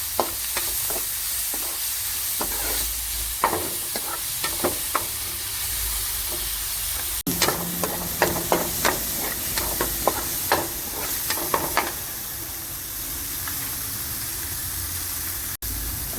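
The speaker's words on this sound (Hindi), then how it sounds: "शिमला मिर्च और जो अदरक के गुच्छे थे वो डाल दिए। अब इसको हम अच्छे से भून लेंगे" Capsicum, carrot and ginger stir-fry in a hot pan for veg Manchurian gravy, a loud constant sizzling hiss broken by repeated sharp scrapes and clacks of a spatula, heavier in the middle stretch, with no talk.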